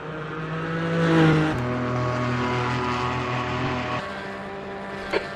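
A Porsche race car brakes into a corner at the Thruxton circuit, its engine droning close and loud, the pitch sliding down as it slows, holding steady, then dropping again, with a sharp tick near the end.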